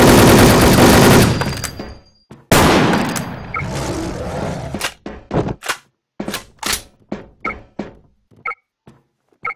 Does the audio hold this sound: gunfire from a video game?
yes